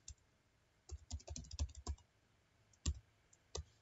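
Fingers typing on a computer keyboard, a close, quiet burst of irregular key clicks followed by a pause and a few more isolated keystrokes, with no talking.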